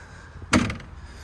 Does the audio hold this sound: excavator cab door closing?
yes